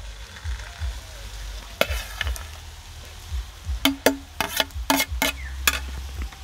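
Rice being stirred in a hot pan for mutton fried rice, a steady low sizzle broken by a run of sharp spatula scrapes and clinks on the metal, loudest in a quick burst near the end, with no talking.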